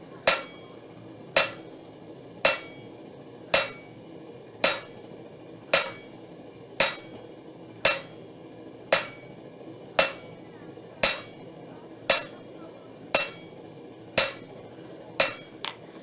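Hammer blows land on a hot steel bar at the edge of an anvil, half-faced strikes in a steady series of about fifteen evenly spaced, ringing impacts, each decaying quickly, close and clear over quiet shop background.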